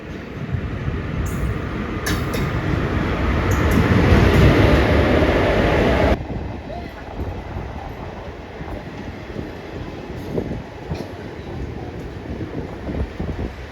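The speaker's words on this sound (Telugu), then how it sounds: "గుంటూరు తిరుపతి ట్రైన్ అయితే వచ్చేస్తుంది సేమ్ టైము." The Guntur–Tirupati train rumbles loudly into a station, building to a peak before cutting to a steadier, quieter rail drone with wind buffeting the microphone.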